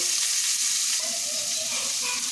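Chopped onions, green chilies and garlic fry in hot oil for a ridge gourd bharta, giving a loud, steady close sizzle throughout with faint stirring and no voices.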